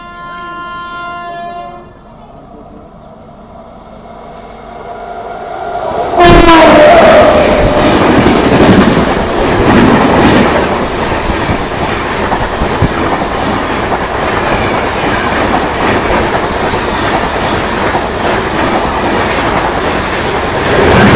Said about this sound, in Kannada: ಈಗ ಚೆನ್ನೈಯಿಂದ ಹುಬ್ಬಳ್ಳಿಗೆ ಹೋಗುವಂಥ ವೀಕ್ಲಿ ಸೂಪರ್ ಫಾಸ್ಟ್